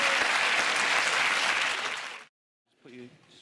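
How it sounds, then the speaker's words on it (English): Dense studio audience applause for about two seconds that cuts off abruptly, followed by a brief silence and then a voice speaking. "A round of applause for Mr."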